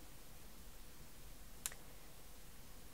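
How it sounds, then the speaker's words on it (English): A single soft computer mouse click, sharp and brief, sounds once in a quiet room while a file is being opened, with no speech around it. "I'll click open,"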